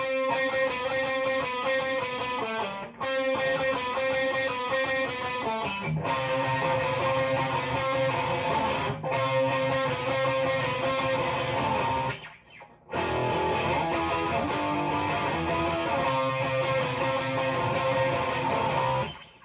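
Distorted electric guitar chugs steadily on a repeated note while higher octave shapes and a power chord ring over it, with brief gaps between phrases.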